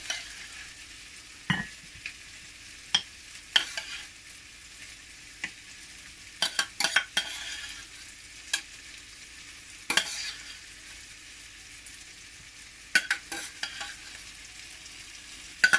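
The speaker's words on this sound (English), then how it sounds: "Stir this together." Giant couscous and lamb sizzle gently in a frying pan. A utensil scrapes and clatters in scattered bursts over a soft, constant fry.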